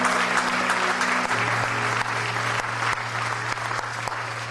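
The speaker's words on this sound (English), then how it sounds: "If you believe that, clap your hands." A church congregation claps their hands together in sustained, dense applause at close range, steady throughout with a low background hum underneath.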